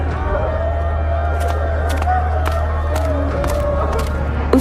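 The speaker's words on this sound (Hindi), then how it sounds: "रामदीन के घर के आसपास काफी भीड़ जमा थी।" A crowd gathered around a house in a neighborhood lane murmurs in a restless, overlapping hubbub over a low steady hum, with sharp faint clicks scattered through.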